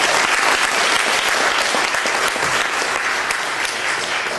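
Loud, sustained applause from a large audience at a tenants' meeting, dense clapping filling the whole stretch without a break.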